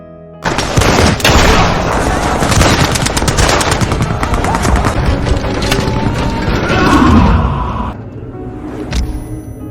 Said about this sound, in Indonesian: Fomin dan pasukannya terus menembaki pasukan Nazi yang mencoba menyeberangi jembatan